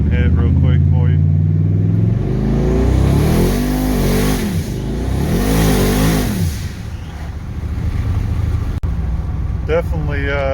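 A Ford TT Lightning truck engine revs hard on a dyno, rising and falling through several loud sweeping pulls close by, with a brief sharp click near the end and short speech before and after.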